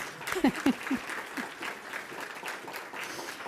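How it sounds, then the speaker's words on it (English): Audience applause at a World Trade Week international trade kickoff event in New York City, sustained and moderately loud, with a few voices rising over the clapping near the start. "So give yourselves a round of applause."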